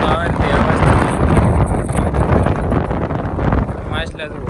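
Strong wind roars and buffets the microphone beside a full dam, a loud, steady rush with gusty surges that lasts throughout.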